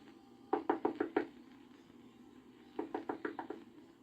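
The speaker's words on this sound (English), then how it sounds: "When she reached the cottage, she knocked on the door." Two quick bursts of knuckle raps on a cottage door, about five sharp knocks each, separated by a short pause, close and clear against a quiet background.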